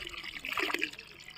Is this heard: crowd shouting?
no